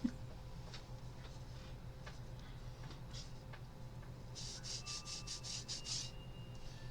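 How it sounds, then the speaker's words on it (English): Leather is rubbed by hand in a quiet room, soft scuffing at first and then a quick run of rhythmic squeaky strokes, with no one talking. "I think I've rubbed this leather to death."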